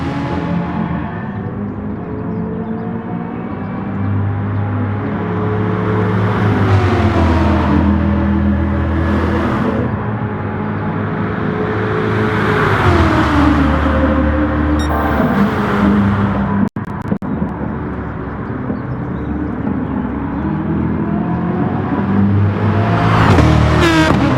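Race cars lapping Monza in GT Sport: steady engine drone with pitch rising and falling through gear changes and corners, sustained and fairly loud throughout with no talk.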